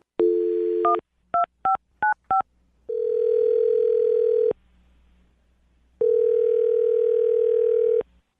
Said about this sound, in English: I'll dial her phone number right now, see if we can get her to answer